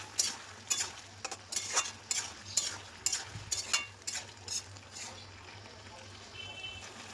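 Cut eggplant and tomato hit a hot pan and fry, with a bright crackling sizzle and rhythmic stirring scrapes for several seconds before the sound settles into a softer, steady frying hiss.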